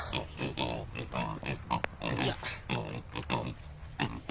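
Hungry pigs in a pen at feeding time grunt and oink in a steady, close, overlapping chorus, with squeals rising above the low grunting throughout.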